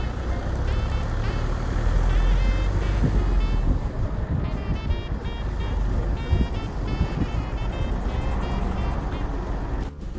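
Cars drive through the city streets of Liège, a continuous loud engine and road rumble heard from inside a moving vehicle, with tire and wind noise holding steady throughout.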